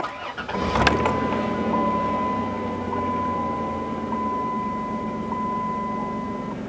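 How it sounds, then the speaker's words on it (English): Car engine starting inside a used car being checked over, with a burst of cranking that catches, then a steady idle hum running under a faint high tone. "once you're inside the car, start it up"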